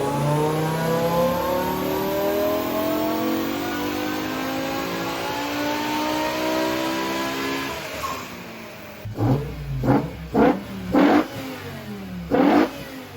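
A BMW E60 M5 on a dyno, its engine climbing in a long, loud, sustained rev toward 8,250 RPM, then dropping into a rapid series of sharp blips and throttle stabs.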